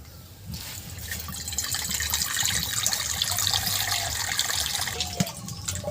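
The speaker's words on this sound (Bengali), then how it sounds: "কাকিমা ওদিকে ডুমুরটা ভালো করে ধুচ্ছে" Tap water runs steadily as figs are washed in a home kitchen, a close trickling splash with faint clatter near the end.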